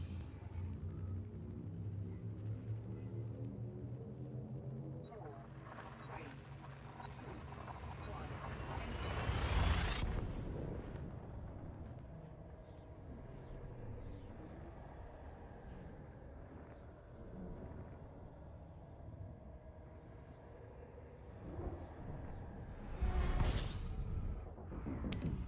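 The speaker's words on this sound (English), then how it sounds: "I can press J to charge my frame shift drive" The frame shift drive in Elite Dangerous, the space game, charges with a rising, swelling whine and rumble, then jumps with a deep whooshing roar that fades into a low drone, ending in a brief burst.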